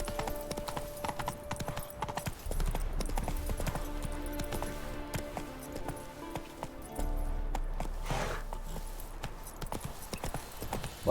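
Horse hooves clip-clop steadily in The Witcher 3 video game as the mount trots along, a close, continuous rhythmic beat over faint background game audio.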